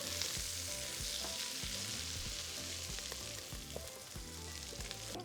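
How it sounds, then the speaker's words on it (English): Chorizo fries in a pot with a constant bright sizzle and faint scraping stirs, close and steady throughout, with no one talking. "So next, we're cooking up the chorizo"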